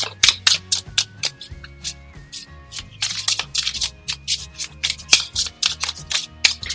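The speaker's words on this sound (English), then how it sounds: "Now, as I'm shuffling these cards" A tarot deck being shuffled by hand, bursts of crisp riffling and card slaps in quick irregular flurries, close and fairly loud over soft background music.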